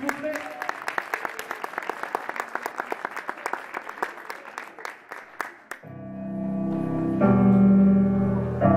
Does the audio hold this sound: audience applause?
yes